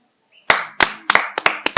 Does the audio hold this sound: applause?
yes